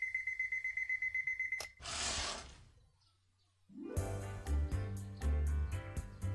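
An alarm clock in the visual novel Fureraba rings in rapid, steady pulses for under two seconds. A brief rustling burst follows, then near silence, then music with tinkling chimes enters.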